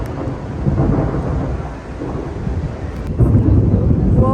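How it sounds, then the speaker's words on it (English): Thunder rolls during a heavy rainstorm in Tbilisi, a loud sustained rumble over the steady hiss of rain, swelling again near the end. "There's a little thunderstorm."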